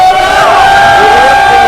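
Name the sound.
crowd applause and cheering for the actress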